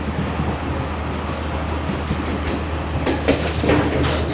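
A train on the Colombo to Kandy line rumbles through a station, with a loud steady roar and low drone and a few rattling clacks toward the end.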